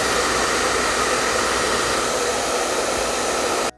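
Xpoliman hair dryer running at its minimum speed setting, a steady loud rushing airflow hiss with a constant motor tone, unbroken until it cuts off abruptly at the end.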